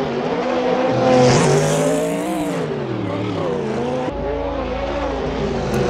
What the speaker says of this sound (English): Oh, this BMW is fast.